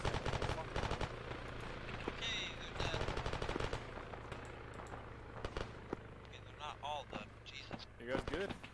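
Rapid machine gun fire in a video game, loud crackling bursts mixed with other impacts, while players talk over it.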